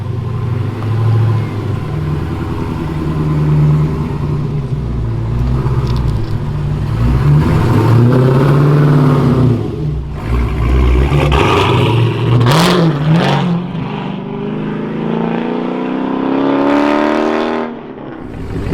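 A supercharged Hellcat Charger with a swapped six-speed manual and triple-disc clutch drives hard, its engine rumbling and revving loudly through gear changes, rising and falling in pitch over a steady drone.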